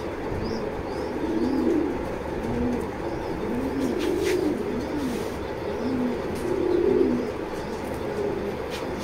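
A pair of racer pigeons cooing in repeated soft, low phrases, close by and steady over a faint background hiss, with a few high chirps from other birds in the distance.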